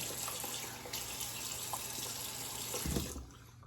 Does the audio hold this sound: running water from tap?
yes